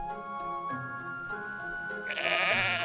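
Sheep bleating in the god game Black and White, a few wavering bleats over steady game music, with a louder, brighter burst near the end.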